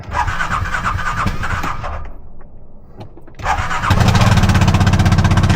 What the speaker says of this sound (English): Wonder if it'll even start.